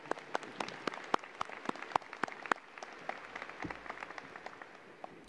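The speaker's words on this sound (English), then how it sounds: "Let's give our LISD administration a round of applause." Scattered applause from a graduation audience at a high school ceremony, with sparse, uneven claps at a distance, fairly faint, and no talking over it.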